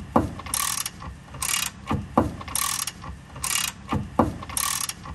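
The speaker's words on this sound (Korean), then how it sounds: "이렇게 풀었다가 다시 토크렌치로 체결해주면 사실 문제 해결입니다" A torque wrench ratchets on car front suspension bolts in a repair shop, giving repeated clicking bursts in a steady rhythm, close and fairly loud.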